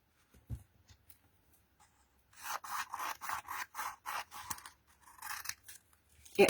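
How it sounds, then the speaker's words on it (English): Scissors snip through a strip of thin gold self-adhesive metallic foil in a quick, close, steady run of crisp cuts, with a soft rustle of handling before and after. "So I'm going to cut a strip of it."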